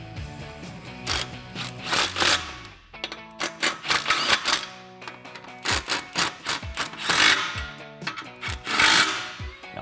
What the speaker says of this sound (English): grab your 15mm socket and tighten these down